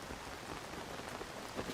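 Steady rainfall in The Legend of Zelda: Tears of the Kingdom, a dense, even hiss of falling rain that holds continuously for the whole short stretch, with no other sounds.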